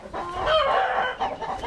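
Rhode Island Red chickens cluck in a breeder pen, a close, busy run of short throaty clucks and calls with no talk over them.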